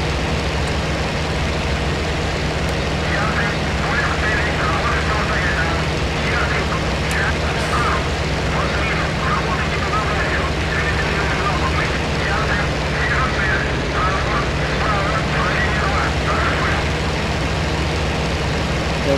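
Steady, loud drone of a P-51 fighter's piston engine in the IL-2 Sturmovik flight sim video game, a continuous rumbling roar that holds throughout while someone talks over it.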